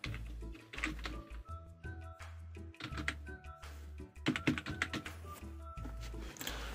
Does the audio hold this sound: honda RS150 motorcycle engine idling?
no